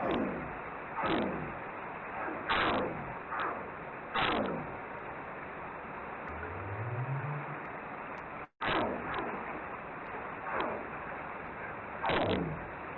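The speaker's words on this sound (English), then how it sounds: "And so that's what a right whale sounds like." North Pacific right whale calls recorded underwater: sharp broadband gunshot-like cracks repeat irregularly over a constant hiss of sea noise, and a single low rising up call sweeps upward partway through.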